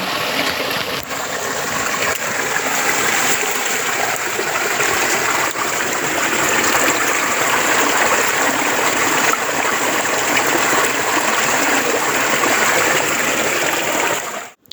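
A stream of flowing water rushes and gurgles continuously and fairly close, with a steady, full wash of sound. It runs on its own until it cuts off at the very end.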